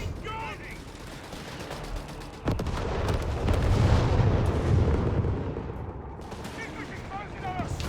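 Dense battlefield gunfire in Company of Heroes 3 rattles on, with a Vickers machine gun among it: bursts and heavier booms pile up under continuous excited commentary.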